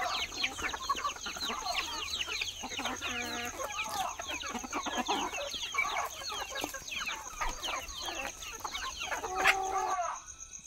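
Free-range country chickens on a farm cluck and chatter steadily at midday, a rooster among them, with a few louder calls near the end against a constant high electrical whine.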